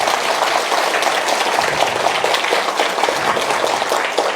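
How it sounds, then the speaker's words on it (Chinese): A large seated audience at a talk gives sustained applause, a dense, even wash of clapping hands that stays loud and steady throughout. "我们先掌声谢谢他们。"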